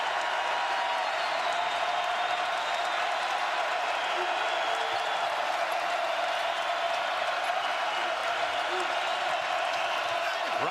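A basketball arena crowd at a Kansas Jayhawks at TCU Horned Frogs game keeps up a continuous roar of cheering and applause, a dense, even wash of noise that never lets up.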